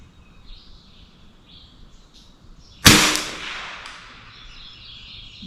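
A single sharp shot from a refinished, scoped BSA Century air rifle cracks out loud and close, its report decaying over about two seconds amid faint bird chirps outdoors.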